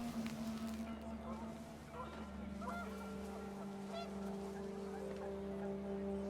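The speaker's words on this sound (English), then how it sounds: "The wind picked up, and panicked geese appeared and quickly went." Panicked geese honk in the video game What Remains of Edith Finch, scattered squawks blended into a windy, droning background with a voice talking over it.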